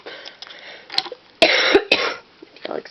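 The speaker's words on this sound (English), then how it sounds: "If you'll excuse the coughing" Several sharp coughs in close succession, loud and near, with a couple of separate bursts and quieter throat noises between them.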